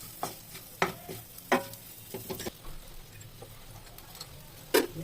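An egg mixture being stirred in a hot pan. A spoon scrapes and taps the pan about eight times at uneven intervals over a faint sizzle. The sound is close and quiet, with no talking.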